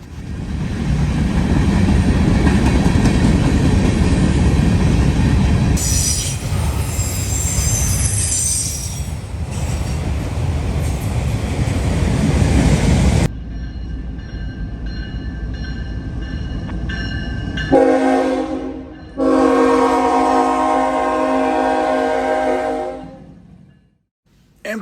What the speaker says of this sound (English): An EMD SD70M-2 trails third on 170 as it makes its way through London, Ohio at CP 162